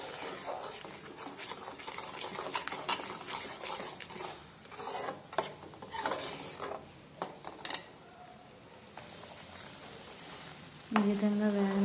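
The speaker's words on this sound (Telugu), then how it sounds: "ఈ విధంగా ఒక 10 నిమిషాలు బాగా వేగనివ్వాలి." Fish pieces frying in a pan for a fish curry, soft sizzling with scraping spoon stirs and clinks, fairly quiet, with someone speaking near the end.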